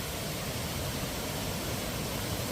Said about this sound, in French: Je sais pas si vous m'entendez bien avec le bruit de l'eau, je vais parler plus fort.